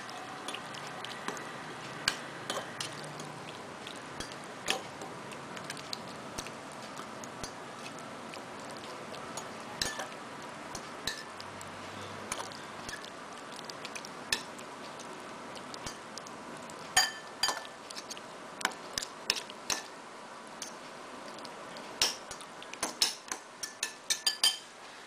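Tuna sandwich filling being stirred in a bowl, with soft repeated clinks and scrapes of a utensil and faint squishy mixing, steady and close, with no talk.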